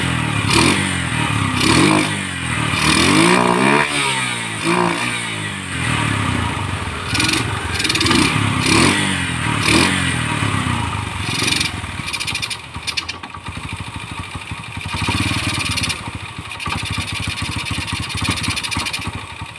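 Motorcycle engine revved again and again, pumped hard with rising and falling surges and some rattling clatter, loud and close throughout with no talk.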